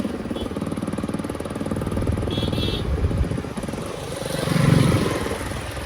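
A motorcycle engine drones loudly nearby with a throbbing, rough rumble that swells and eases, peaking toward the end.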